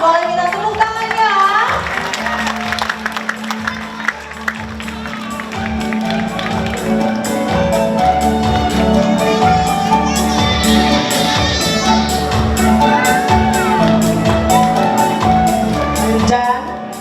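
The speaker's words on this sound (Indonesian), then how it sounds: "Boleh minta tepuk tangannya?" An audience at a Lenong Bangsawan stage performance claps and cheers as the cast is introduced, a dense crowd roar with shouts and scattered claps that swells and holds for many seconds.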